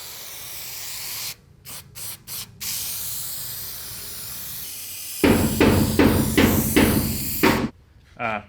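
Two-part contact adhesive is sprayed onto the backrest pad of a go-kart seat in short hissing bursts: four quick sprays, then a longer sustained spray series, close and loud, with quiet gaps between.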